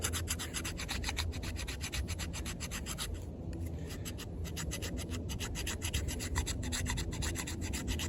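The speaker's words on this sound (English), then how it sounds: "I'm showing you that I didn't think that there was anything to scrape, you know, but that choil is doing the job." The choil of a SITIVIEN ST-18 combat utility knife in N690 steel scrapes repeatedly across a surface, giving a fast, steady rasping rub with one brief lull near the middle.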